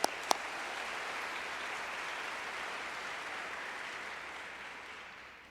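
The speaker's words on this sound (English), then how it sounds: "give them a round of applause." Steady applause from the audience at a law school graduation ceremony for the class of 2022, opening with a couple of sharp claps and then a broad, even wash of clapping that fades slightly toward the end.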